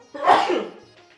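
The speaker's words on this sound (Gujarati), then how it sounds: "એટલે આ છીંક ઉધરસ ઉતરી શરદી" A single loud, close sneeze in a Gujarati drama film scene: a sharp intake bursting into a forceful explosive sneeze, then trailing off into quiet.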